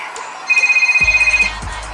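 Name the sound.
mobile phone ringtone in the video game GTA IV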